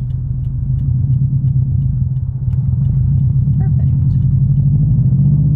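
A Subaru STI with a manual gearbox rolling slowly, a loud steady low engine rumble with slight pulsing, and a brief spoken word over it.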